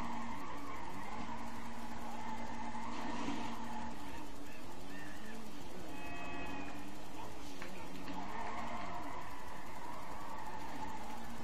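Tuned car in GTA 5 spinning out, tires squealing and skidding in long wavering wails over a steady engine drone, loud and continuous, with a voice talking over parts.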